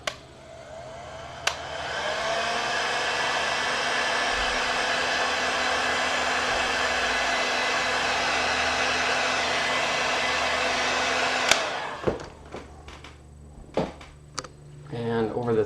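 A hot air blower shrinking heat shrink tubing over soldered wires roars steadily for about ten seconds, then cuts off, followed by handling clicks and knocks.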